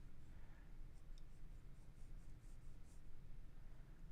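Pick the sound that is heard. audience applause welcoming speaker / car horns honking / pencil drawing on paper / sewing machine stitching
pencil drawing on paper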